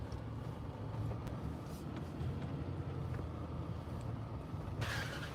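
A Jeep engine rumbles steadily from inside the cabin with bumps and rattles as it drives off-road over rough ground, a louder rush near the end.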